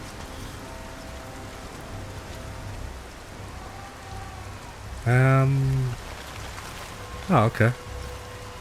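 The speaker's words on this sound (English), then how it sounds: "because it's raining outside" Steady rain falling in the video game Nioh, a constant wash of drops heard under game music tones, with a brief spoken exchange partway through.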